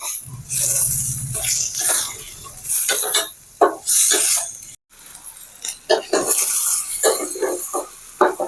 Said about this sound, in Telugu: ఫ్రై చేసుకోవాలి ఈ ఆయిల్లో. ఇందులో నుంచి నీరంతా బయటకు వచ్చి పచ్చి వాసన పోయేంత వరకు కాస్త వేయించుకోవాలి.